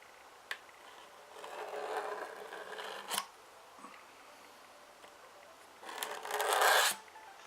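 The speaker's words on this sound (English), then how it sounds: "Now I'm using a hacksaw and cut that in half right there." A hacksaw cuts through an acrylic front panel in two bursts of close, rasping strokes separated by a quiet pause, with faint taps and handling noise between them.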